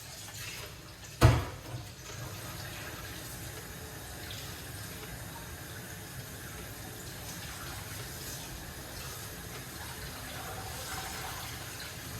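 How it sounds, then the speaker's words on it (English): Steady running tap water pours over ingredients being washed, a continuous close hiss broken early by one sharp knock, with no talking. "Wash off the ingredients. We are going to wash off these and use them."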